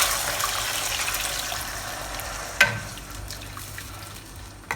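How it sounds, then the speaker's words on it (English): Two cups of water are poured into a hot pan of separated pork pieces to make a sauce. A steady, close rush of liquid mixes with sizzling, with one sharp knock partway through. "we'll add in water because we need the sauce"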